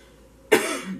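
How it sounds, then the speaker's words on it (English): A single abrupt, close cough bursts out after a half-second of quiet, loud and harsh, then trails off into a rough throat-clearing tail. "sorry, I was trying to cough down or trying to get rid of a cough."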